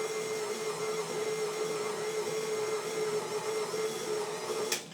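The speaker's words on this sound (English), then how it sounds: "You hear the mixer whine? You guys heard that, right?" A stand mixer motor whining steadily while working a cut-in pie-style dough, a constant close tonal whir with a faint click near the end.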